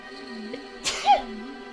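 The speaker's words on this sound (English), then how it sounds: "All of this intrigue and mystery has given me a sneezing fit." A single short sneeze from a character in the video game Okami, a quick breathy burst over a quiet background tone.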